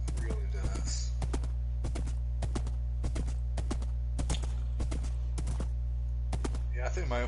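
A horse's hooves clip-clop in Minecraft, a steady run of sharp, evenly spaced clicks under a constant low hum, with brief speech at the very end.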